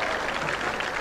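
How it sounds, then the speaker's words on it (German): An audience applauds at a Jass card game evening in Arth-Goldau in 1987, a brief burst of steady, dense clapping from a crowd with no pauses. "Ja, das ist aber gut, ihr könnt auch klatschen."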